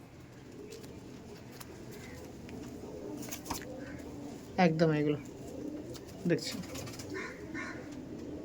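High-flying pigeons kept in a loft coo in a couple of short, throaty bursts, fairly close. The cooing is mixed with background murmur and a brief spoken remark.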